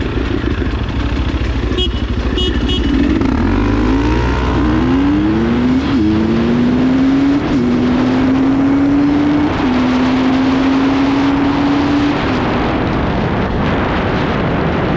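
A KTM 300 XC-W TPI two-stroke supermoto motorcycle accelerates hard and close, its engine note climbing through several gear shifts, each upshift dropping the pitch before it rises again, over loud wind noise.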